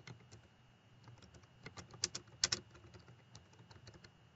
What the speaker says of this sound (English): Let's try typing the title there.